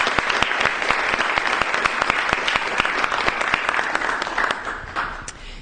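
Dense, loud applause from an event audience thanking sponsors, steady clapping from many hands that holds for several seconds and then tapers slightly at the end.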